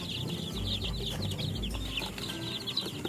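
Baby chicks kept in a cardboard box on a backyard farm peep rapidly and continuously in a high-pitched chorus, with a few soft low thumps of movement underneath.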